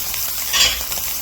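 Wild mushrooms fry in a pan with a steady bright sizzle and a faint stir or scrape partway through, close and continuous with no voices.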